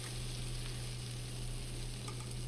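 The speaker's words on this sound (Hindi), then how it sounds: "ब्राउन होने तक गोभी को पका लेंगे" Cauliflower fries in turmeric-tinted oil in a pan, giving a soft, steady sizzle that stays faint and even throughout, with no voices.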